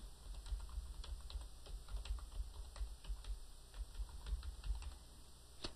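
Fingers type a file name on a computer keyboard, a steady run of quick, close key clicks for several seconds with no talking.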